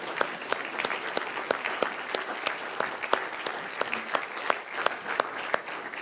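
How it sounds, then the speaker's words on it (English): An awards-ceremony audience applauds steadily, dense overlapping claps with a few sharper near claps standing out, sustained at even loudness throughout. "You could keep the applause going until she's in position."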